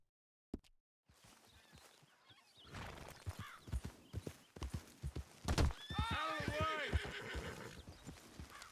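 Hooves clop along, then a horse lets out a loud, trilling whinny near the end, with a voice speaking briefly in between.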